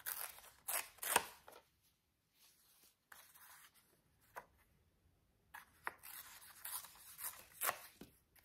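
Scissors snip through paper in short, crisp cuts, a few quick bursts at the start and again near the end, with quiet rustling between them, close and faint.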